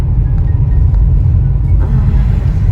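A car travels the mountain road from Bakhchisaray toward Alushta in Crimea, a steady, loud, low rumble of engine and road noise heard from inside the vehicle, with no talking.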